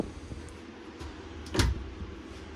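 Glass door on a Dutchmen Voltage Triton 3551 fifth-wheel toy hauler RV swinging open, a single short thump and rattle standing out near the middle of a quiet interior.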